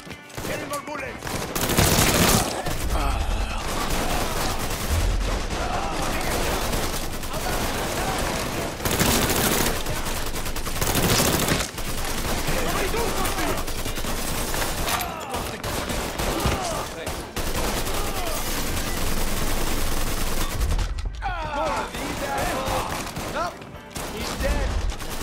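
A sustained gunfight rages in Mafia 3 Remastered, with dense, loud bursts of automatic and single shots firing almost continuously, while voices shout over the shooting.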